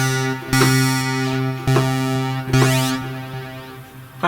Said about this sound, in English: That can be quite a harsh distortion if you want.